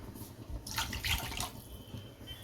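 Water poured from a cup into a kadai of sugar while making bread halwa, a short splashing pour of about a second, close and clear, then quiet.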